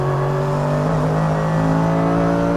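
A Mercedes AMG GT3 race car on the Nurburgring GP short circuit, its engine droning loud and steady from inside the car as the pitch holds and slightly climbs under throttle.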